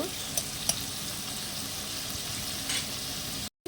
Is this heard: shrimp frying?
yes